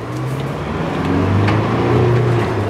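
Volkswagen Amarok pickup engine pulling hard under acceleration, a steady low drone that rises gradually in pitch and loudness over a few seconds, heard from inside the vehicle with no talking.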